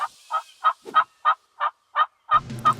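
Wild turkeys answering turkey calls outdoors, about ten loud, close, evenly spaced gobble-like pulses in a quick steady series, with a low rumble rising under the last few.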